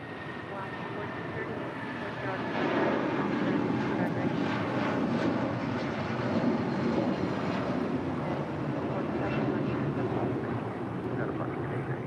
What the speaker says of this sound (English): That was the flight heading to Denver. United Airlines flight 1847 of that 737-300.